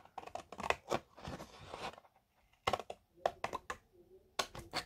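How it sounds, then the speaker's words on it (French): Large scissors snip through material while cutting out a rectangle for a door hanging project, a close series of sharp, crisp cuts in quick bursts separated by short pauses. "je vais prendre mes plus gros ciseaux, ça ira plus vite"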